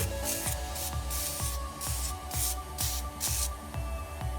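Short bursts of aerosol spray hiss repeatedly, about eight quick sprays in a steady rhythm, close by over a low background hum, spraying down a Corvette LS1 engine during a rebuild.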